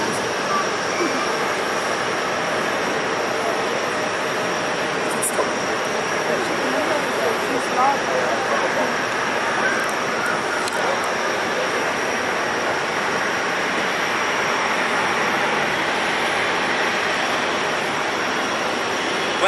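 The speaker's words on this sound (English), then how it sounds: "we have another Swiss 777 taxiing" A Swiss Boeing 777 taxiing at Zurich Airport gives off a steady, broad jet roar that holds evenly throughout, distant and unbroken, with no pauses or sharp events.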